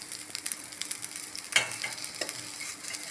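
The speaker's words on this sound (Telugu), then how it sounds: "ఫిష్ ఫ్రై అనేది రెడీ అయింది" Fish frying in Healux cookware on a stove, busy crackling sizzle with quick spattering pops and one sharper clatter near the middle, close and continuous, no talk.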